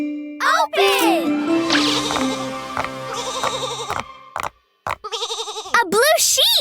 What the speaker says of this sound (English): A blue sheep!